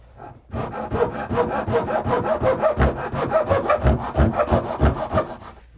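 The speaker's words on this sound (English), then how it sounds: "For the shims that are too thick for the knife, I use one of my smaller Japanese hand saws." A small Japanese hand saw cuts through thin wooden shims while a window is replaced in a brick wall, giving a steady run of rhythmic rasping strokes, close and fairly loud, with no talking.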